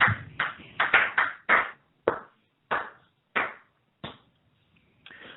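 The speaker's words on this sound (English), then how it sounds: "My phone's ringing right now" A phone rings with a string of sharp, bright ping-like tones in quick bursts, then sparser repeats with short gaps between them. The tones are fairly clear against near silence.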